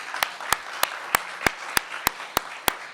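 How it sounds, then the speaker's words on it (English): Steady, evenly spaced single claps, about three per second, sharp and fairly close, at the closing of a capture-the-flag competition event. "let's just give a big round of applause to everyone today."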